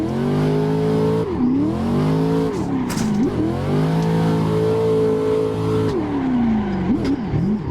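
A Corvette drifting on the VDC CompCenter map in Assetto Corsa: loud, continuous engine roar that rises and falls with throttle blips and shifts, with tire squeal layered over it the whole way through.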